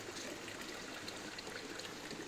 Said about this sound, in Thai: น้ำไหลบนคลองธรรมชาติบ้านเรา